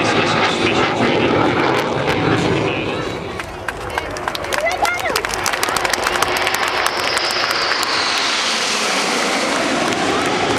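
Jet aircraft engine roaring continuously at an airshow display while the plane rolls inverted, a loud steady rumble that swells and shifts in pitch, with crowd and commentary mixed underneath.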